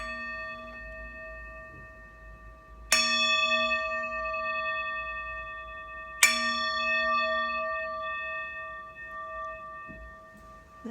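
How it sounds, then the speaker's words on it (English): A singing bowl used as a mindfulness bell rings with a steady sustained tone, then is struck twice more, each strike a bright, loud onset that blooms into long, shimmering, slowly fading overtones with no talk. "I'm going to hit the singing bowl 3 times."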